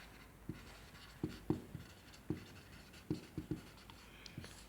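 Chalk writing on a classroom board in a maths lesson, with soft irregular taps and short scratchy strokes in quick bursts, faint and close, and no talking.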